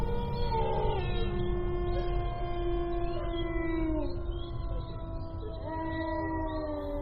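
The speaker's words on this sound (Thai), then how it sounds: "สุนัขเห่าหอนเสียงหมาช่างดูเยือกเย็น ผ่อนยาวเหมือนจะหยุด แต่ก็กลับมาดังอีก" A dog howls in long, drawn-out wavering tones outdoors at night beneath a large tree. The howls fade and then rise again, loud and close, with no one talking.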